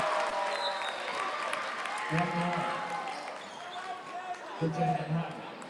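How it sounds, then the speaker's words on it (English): A high school basketball crowd roars and claps after a made free throw in a tense fourth quarter, a loud sustained wash of cheering with a commentator's voice over it. "You're going to hear the crowd get loud"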